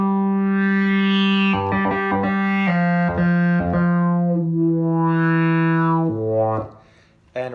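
An EWI wind controller plays a modular synth patch of two oscillators tuned in unison through a resonant filter, Intellijel Quad VCA, delay and reverb, giving a sustained buzzy melodic line with stepped note changes before fading out.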